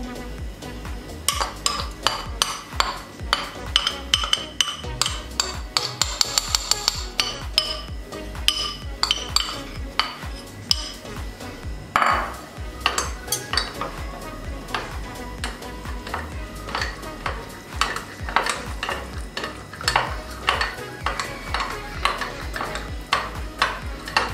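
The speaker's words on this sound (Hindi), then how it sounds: "अब ये दूध में डाल देंगे और इसको अच्छे से मिक्स कर लेंगे।" Mango custard powder is stirred into milk with a spoon, giving repeated close clinks and scrapes against the bowl in an uneven rhythm, with no talking.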